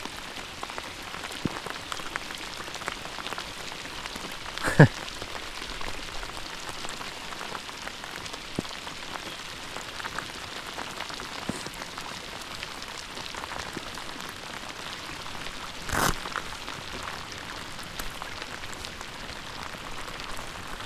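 Steady rain pattering on water and a hard plastic kayak, a dense even hiss with scattered louder drops, no voices.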